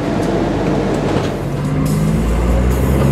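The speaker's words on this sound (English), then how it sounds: "We're driving a car inside a train." Steady low rumble and rattling hum fill a rail car carrying a car aboard during a Gumball 3000 rally crossing, continuous and fairly loud throughout.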